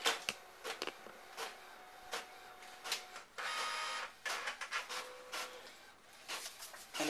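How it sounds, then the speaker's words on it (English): An Epson Artisan 810 printer scans and prints, giving rhythmic mechanical whirs, clicks and paper-feed rubbing in short bursts with one longer run, close and moderately loud. "As you can see, the scan and print speed is pretty fast."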